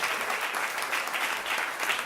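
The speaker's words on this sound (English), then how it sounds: "Let's give them a round of applause." Sustained applause from an audience at a neighborhood civic meeting, steady and dense for the whole stretch with no break, heard from within the room.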